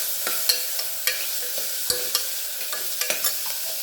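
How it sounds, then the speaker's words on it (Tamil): Curry leaves fry in hot oil in a pan for cauliflower kurma, with a steady crackling sizzle and a run of quick scraping stirs and spoon taps close by. "கருவேப்பிலை இது நல்லா செவக்க வறுக்கணும்."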